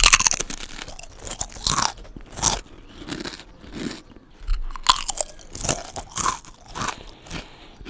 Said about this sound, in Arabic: بصوا هسمعكم صوت الشيبسايه